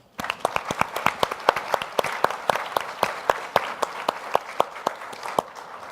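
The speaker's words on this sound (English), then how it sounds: "So give them a big round of applause." Clapping from a crowd at a congressional caucus plenary session. Sharp individual claps land in a quick, fairly even rhythm over a soft bed of applause, steady throughout and with no talk.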